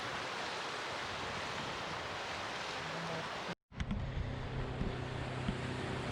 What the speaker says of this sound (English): that's where the boom sounds was coming from and the waves are going up there